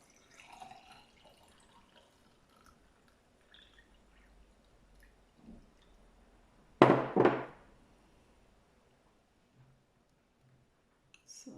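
Water pours into a jar holding lime pieces and cinnamon, a single short splashing pour that rises clearly out of a quiet room, with a few faint clinks and drips before it.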